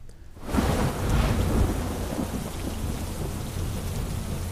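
Heavy rain pours down over the countryside around Gondal, near Rajkot, as a steady loud hiss, with a deep roll of thunder swelling early and rumbling beneath the downpour.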